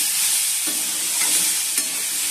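A pumpkin and potato curry cooks in a pan with a steady, loud hissing sizzle, broken by a few soft stirring knocks.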